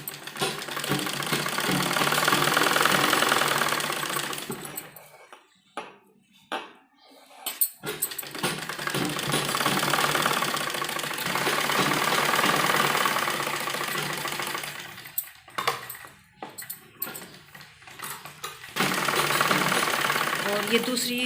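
A sewing machine stitches a folded trouser hem in loud, sustained runs broken by short pauses, with a person speaking during the gaps.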